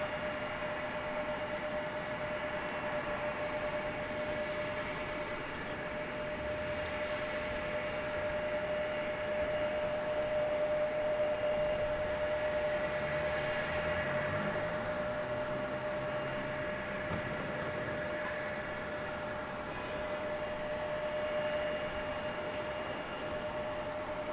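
A Spirit Airlines Airbus A320neo at Salt Lake City airport, its steady broadband engine roar and a sustained whine holding loud and even throughout, with no talk.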